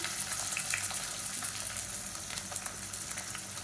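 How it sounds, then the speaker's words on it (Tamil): Whole garam masala spices frying in hot oil in a pan for South Indian brinji rice, a soft continuous crackling sizzle with faint pops, quiet and steady with no talking. "இப்போ கரம் மசாலா எல்லாமே பொரிய ஆரம்பிச்சிருச்சு"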